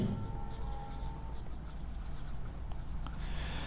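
Handwriting on a surface during a chemistry revision lesson on reaction equations: a faint, steady scratching that continues for the whole stretch with no talk over it.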